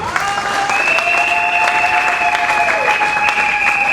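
A church congregation applauds continuously to acclaim the Lord, a dense steady clatter of many hands with sustained tones ringing over it throughout.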